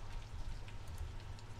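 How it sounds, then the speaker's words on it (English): Continuous video game rainfall with a soft patter of drops and a low rumble underneath, steady throughout with no voices. "It's raining."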